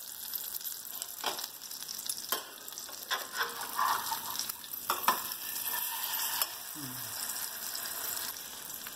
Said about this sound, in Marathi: डीप फ्राय करायची नाही, शॅलो फ्राय करायची आपल्याला